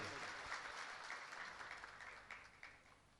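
A Bhagavat Katha audience claps in steady, continuous applause, soft and distant, a dense even patter with a few sharper claps standing out near the end.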